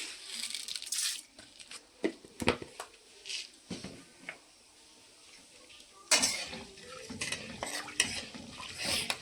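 Hot oil sizzles and crackles in bursts as tempering seeds fry, while a metal spoon scrapes and clinks against the pan, close up.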